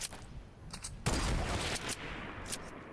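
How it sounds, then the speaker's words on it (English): Gunfire in a Fortnite match comes as a burst of rapid shots at moderate distance, with a few fainter scattered shots before and after. "Okay, shots fired"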